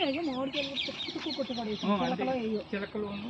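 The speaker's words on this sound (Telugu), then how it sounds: "బర్డ్స్ ఉన్నట్టున్నాయి." Birds, probably parrots, call repeatedly in a vegetable garden with cucumbers, brinjal and okra, giving bright, wavering chirps that overlap almost continuously at moderate distance.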